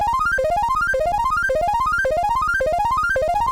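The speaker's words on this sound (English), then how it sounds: "Another sound from the intro of the song is this square arpeggio." A square-wave synth arpeggio cycles rapidly upward through the same rising note pattern again and again, bright, buzzy and continuous, with no pause or voices.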